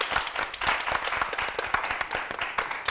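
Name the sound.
studio audience applause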